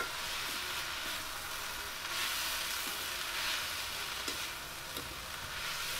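Continuous sizzling of vegetables for sunn hemp flower sabzi frying in a pan as a garlic, ginger, chili and turmeric paste is stirred in, with faint scraping taps of the spoon.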